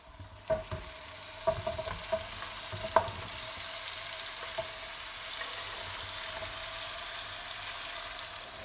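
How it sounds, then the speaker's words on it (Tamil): Crab frying in oil in a pan for a Sri Lankan crab curry, with a steady hiss of sizzling and a few sharp pops and spatters early on, close up and with no talking. "முதல்ல கிராபை நான் ஆயிலில் பொரிய விட போகிறேன்."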